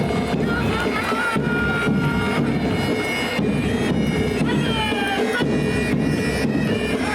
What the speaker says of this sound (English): Please applaud the 10th Battalion Tripura State Rifles led by Sub-Inspector Pulaj Bhomik.